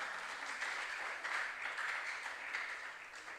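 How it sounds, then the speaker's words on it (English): A school audience applauds a junior science and maths quiz team at a regional qualifier, dense steady clapping that holds at a moderate, somewhat distant level throughout. "Let's clap for them."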